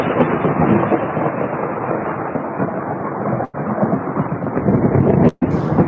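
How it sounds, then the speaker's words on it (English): A heavy thunderstorm rumbles with loud, continuous thunder over steady rain, cut by two brief dropouts near the end. "Keep that thunderstorm sound clip handy"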